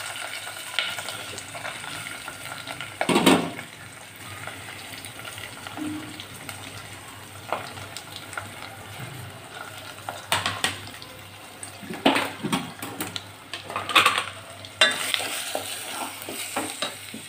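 Chopped onions frying in a pan with cumin seeds and curry leaves for a boondi curry, a steady hiss of sizzling oil broken by loud scrapes and clatters of a spoon stirring, heard alone.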